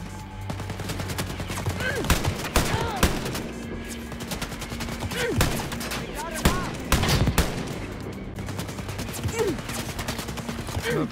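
Repeated gunfire in the shooter game Wolfenstein: Youngblood, with many sharp shots in irregular bursts for about eleven seconds, some louder and closer, and occasional speech mixed in.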